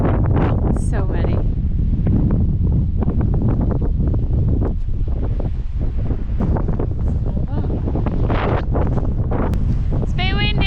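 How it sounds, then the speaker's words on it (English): Strong coastal wind roars across the microphone at a roadside stop on Scotland's North Coast 500 route, loud and continuous beneath people talking throughout. "It's a bit windy."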